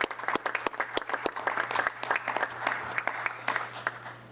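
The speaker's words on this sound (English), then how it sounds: "give you a nice big round of applause for your recent ACMA Excellence in Leadership recognition" A modest group claps in a town council chamber honouring Don Buckland's leadership recognition, individual claps clearly separated in an uneven patter over a low steady hum, fairly close and moderate in volume.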